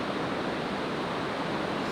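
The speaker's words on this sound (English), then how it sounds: "So we can clearly hear the waterfall." Jungle waterfall in Bali heard as a continuous broadband roar of rushing water, steady and fairly loud, with no voices over it.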